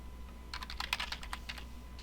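A short burst of rapid typing on a computer keyboard while entering variables into SPSS software, a dozen quick close clicks, quiet and alone.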